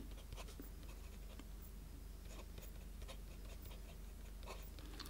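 A ruby red Pelikan Souverän M600 fountain pen with an EF nib writes on paper, giving a faint, steady scratching with small ticking strokes close up against a quiet background. No one speaks.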